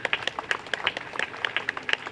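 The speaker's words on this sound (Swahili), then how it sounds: "DAWASA jipigieni makofi mengi sana" An audience claps for DAWASA at a Kigamboni district event, a steady patter of scattered hand claps from a modest crowd, moderately close, with no speech over it.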